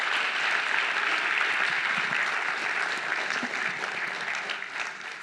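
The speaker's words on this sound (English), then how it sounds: "A round of applause for the panel," An audience at a talk on Special Forces in the Mediterranean applauds a panel, a dense, even roar of clapping hands that holds steady and then slowly fades toward the end.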